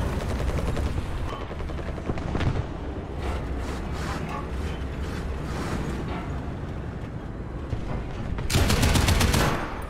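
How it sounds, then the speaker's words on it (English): Sustained .50 cal machine gun fire in a video game, a dense, continuous rattling barrage running throughout and swelling louder near the end. "Okay, so I can kill stuff with a 50 cal."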